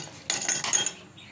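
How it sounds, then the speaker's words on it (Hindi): Ice cubes tumble into a jug for raw mango sherbet, making a quick cluster of bright, hard clinks and rattles that lasts under a second and then fades. "बर्फ़ डाल लेंगे"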